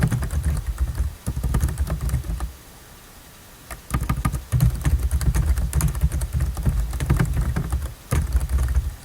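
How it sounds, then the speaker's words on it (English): Typing on a computer keyboard, a steady clatter of quick key presses in bursts with a short pause partway through, close and fairly loud with no voices. "We're going to complete the sentence by typing in, is located in Grove City on Main Street."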